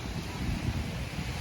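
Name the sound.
wind at the beach in Boracay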